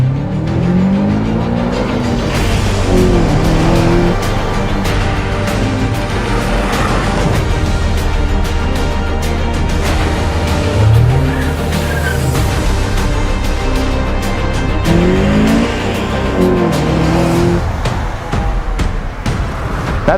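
A Honda Accord CL9 runs hard with a reflashed ECU, its engine and exhaust loud and close, climbing and shifting in repeated rising sweeps with steady road roar underneath for the whole stretch, no talking.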